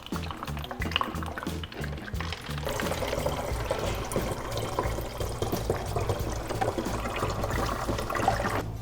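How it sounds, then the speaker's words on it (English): Warm water poured through a funnel into a 2-liter plastic bottle, a steady gurgling, trickling flow that builds and continues throughout, close and fairly loud with no talking. "take all this water and pour it directly back into this 2-liter bottle"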